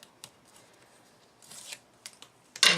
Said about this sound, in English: now I'm just going to take off the tape